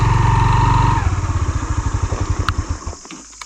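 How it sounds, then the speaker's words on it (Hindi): A motorcycle engine being shut down after a ride toward Narh Forest Resthouse: a loud close idle rumble slows into spaced chugging pulses that fade out over a few seconds, ending with faint clicks. "सो बाइक इधर ही रोकते हैं"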